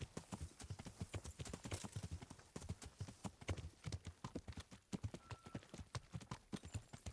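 A horse in Kingdom Come: Deliverance trots with quick, regular clip-clopping hooves, a steady close rhythm of hoofbeats throughout.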